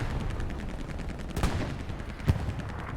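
Artillery fire thuds in a war video game as a low, steady rumble of distant blasts, with a couple of sharper booms standing out over the din.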